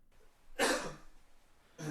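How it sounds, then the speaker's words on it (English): A man coughs in a horror web series, a single harsh burst followed by the start of another, close and loud against a quiet background. "look at him having a cough after being near the fucking operator"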